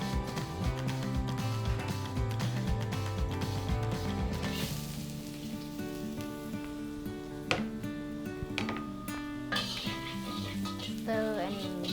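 Chopped garlic fries in oil in a wok for a Thai dish, a soft sizzle beneath a busy layer of tonal background music, with occasional clinks and scrapes of stirring.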